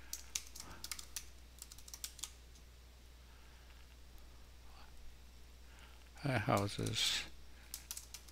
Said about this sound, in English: And I'll just type down here